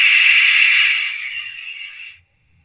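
Bachmann J71 model steam locomotive with DCC sound playing its safety valve, a bright, steady hiss close by that fades and then cuts off, with no talk.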